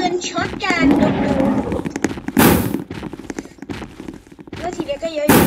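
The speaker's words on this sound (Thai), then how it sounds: "ยิงปืนช็อตกันดู" Shotgun blasts in the Roblox dinosaur-hunting game, a sharp loud burst partway through, heard over animated voices talking and dinosaur-like game sounds throughout.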